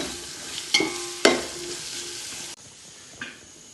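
Green chili, ginger and garlic fry in hot oil for a garlic pickle, a steady soft sizzle broken by a few sharp pops and a brief stir, then quieter frying near the end.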